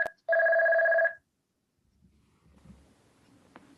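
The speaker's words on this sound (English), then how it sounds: "Please ignore the phone ringing." A single loud telephone ring, a sharp electronic trill lasting under a second after a brief click, followed by faint shuffling and low background noise.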